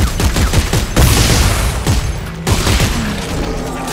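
Gunfire from the video game Coronavirus The Game 3, a loud close burst of rapid shots in quick clusters with a brief pause between volleys and no talk over it.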